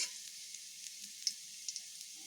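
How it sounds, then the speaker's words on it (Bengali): Black cumin seeds sizzle faintly in a hot pan as they are stirred, a soft steady hiss with a few small crackles and clicks and no voices. "কালো জিরেটাকে একটু ভালোভাবে এইভাবে নেড়ে নিচ্ছি।"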